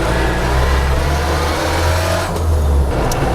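Series Land Rover farm vehicle driving with its engine revving loudly, a dense close drone of engine and road noise that holds steady with slight pitch shifts, no voices.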